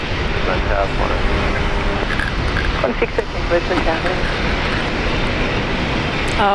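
An Air New Zealand airliner departs Brisbane Airport, its loud, broadband jet roar filling the air steadily while a person talks over it.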